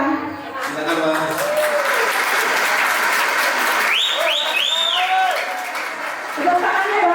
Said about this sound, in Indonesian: Tepuk tangannya dong buat Mas Eko